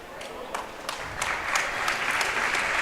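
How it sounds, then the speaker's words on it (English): A crowd at a girls high school basketball game gives an ovation for an injured player who gets back up, scattered claps swelling into steady applause in a gym, heard under a commentator's voice. "It's a nice ovation from the crowd."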